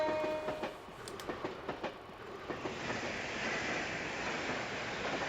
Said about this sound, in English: 帝国からの列車だ。